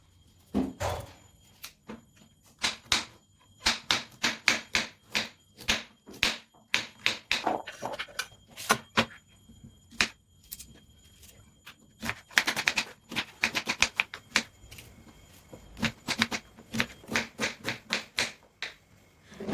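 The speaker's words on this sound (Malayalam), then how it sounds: "ഞാൻ ഈ ക്യാരറ്റൊക്കെ 1 ഇഞ്ച് സൈസിലാണ് കട്ട് ചെയ്തെടുക്കുന്നത്." A knife chops carrots and onions into one-inch pieces on a board, giving a long run of sharp, rapid taps in uneven bursts with brief pauses, close and clear with no talking.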